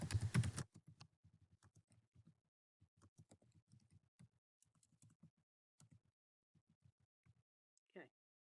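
Typing on a computer keyboard: a run of light, quick key clicks in irregular bursts, close and quiet in an otherwise silent room.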